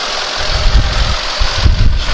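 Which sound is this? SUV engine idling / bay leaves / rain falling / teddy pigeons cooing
SUV engine idling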